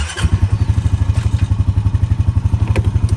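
A four-wheel-drive utility vehicle engine runs steadily nearby, a loud rhythmic chugging with rapid even pulses and some rattling over the top.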